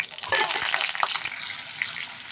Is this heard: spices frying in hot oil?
yes